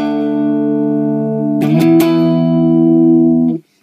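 Electric guitar run through a Boss CS-3 compressor pedal, a sustained chord that swells and holds evenly, with a brief burst of picked attacks midway before ringing out and cutting off abruptly.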